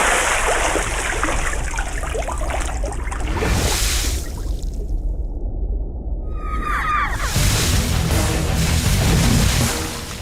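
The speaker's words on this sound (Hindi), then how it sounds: "पानी मार इसके मुंह पे।" Water gets thrown and splashed onto a person's face in a Hindi-dubbed comedy film scene, with loud rushing, splashing bursts, a brief near-silent gap, then more dripping and splashing.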